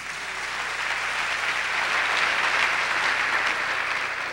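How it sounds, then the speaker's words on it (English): Sustained applause from an audience at a calypso hall of fame induction ceremony honouring Lord Beginner, Egbert Moore, a steady dense wash of clapping that swells slightly midway and holds throughout. "Give him a nice round of applause"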